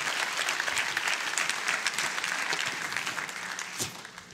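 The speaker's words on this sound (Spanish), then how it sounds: "Dale más fuerte ese aplauso al Señor" Loud, sustained applause from a church congregation during a Spanish-language sermon, dense clapping filling the room steadily and tapering slightly near the end.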